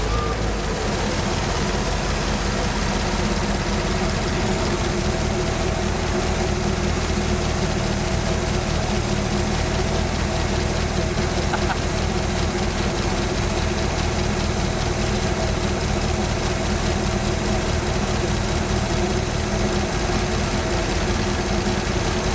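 An abandoned 1974 fire truck, revived after 15 years on ten-year-old gas with a choke cable bent shut, runs at a steady, rough idle, a constant close engine drone with no talking.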